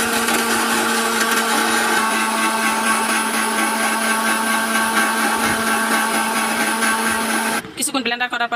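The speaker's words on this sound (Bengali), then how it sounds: "আবার ব্লেন্ডার করে নিচ্ছি, এরকম ব্লেন্ডার কিন্তু 10-15 মিনিট একাধারে করতে হবে" An electric blender whirs loudly and steadily, blending homemade mayonnaise with oil and whole black peppercorns. It runs for several seconds before abruptly winding down into sputtering pulses at the end.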